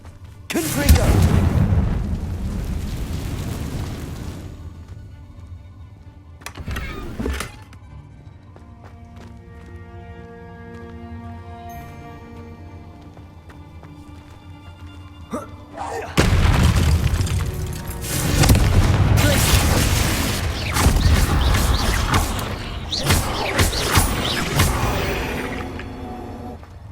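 Confringo blasting spells in the video game Hogwarts Legacy: loud, booming explosions crackle at the start, a quieter musical stretch follows, then a longer run of heavy rumbling blasts.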